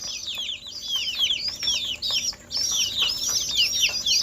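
Chickens of Brahma, local and Malaysian breeds kept with pigeons in a small tin farm shed, producing a dense run of high chirps and clucks with brief wing flutters, close and fairly loud, with no talking.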